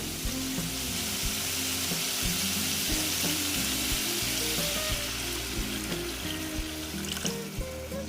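Water poured into frying spice masala for a shol fish curry, setting off a continuous loud sizzle in the pan with a low bubbling, rumbling undertone and occasional clinks, close and with no talk.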